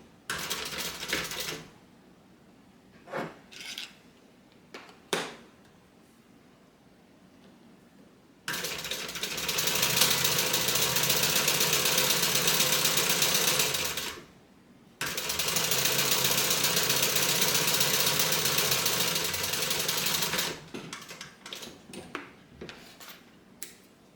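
A sewing machine stitching down a bag, running in two long steady bursts of fast mechanical whirring and clatter, each several seconds long, with scattered clicks and handling noises before and after.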